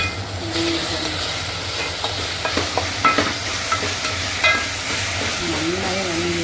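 Onions frying in a pan while being stirred, a constant sizzle under repeated scraping and knocking of a spoon against the pan, close and fairly loud, with no talking.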